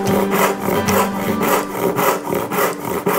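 An unsharpened hand saw cuts through wood in a steady back-and-forth rhythm, each stroke a coarse, loud rasp repeating about twice a second, close and alone with no talking.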